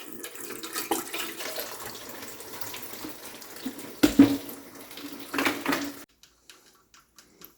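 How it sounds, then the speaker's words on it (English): Water runs and splashes from an Avalon water cooler dispenser, a continuous trickle with a couple of louder gushes, then stops, leaving a few faint isolated drips near the end. "Now it's dripping everywhere."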